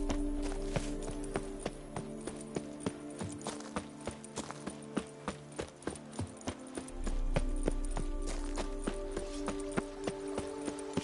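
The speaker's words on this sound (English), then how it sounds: "Even a horse drops if you ride it with a constant gallop." Horse hooves galloping at a steady, rapid clip-clop rhythm in the open-world video game The Witcher 3, close and continuous over a low ambient game backdrop, with no speech.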